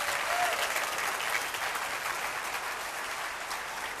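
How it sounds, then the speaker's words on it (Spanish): A church congregation keeps up steady, sustained applause during a service. The clapping is moderately loud and even from start to finish, with a faint background murmur and no clear speech. "Dele ese aplauso."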